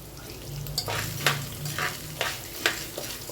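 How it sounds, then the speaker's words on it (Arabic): Pasta fries in a pan with a steady sizzle, and a utensil stirs and scrapes it at intervals. The sound is close, and no one speaks. "يعني هي بتتحمر مع المكرونه وفي نفس الوقت بتستوي"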